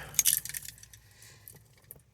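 Keys for a 2019 GMC Sierra 3500 Denali Duramax wrecker jangle briefly up close in a quick metallic rattle, then settle into a few faint clinks.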